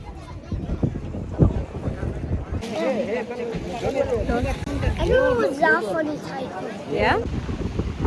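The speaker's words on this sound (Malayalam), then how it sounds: "ഭയങ്കര കാറ്റ്." Gusty wind roars and buffets the microphone outdoors on Liberty Island, while voices talk over the rushing noise.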